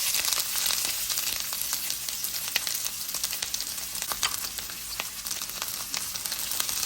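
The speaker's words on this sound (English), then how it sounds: "when you put a little bit of, let's say, onion, and it starts to sear like this, I'm going to add my onions here" Onions searing in hot oil give off a bright, continuous close sizzle with scattered crackles and pops, steady and loud with no talking.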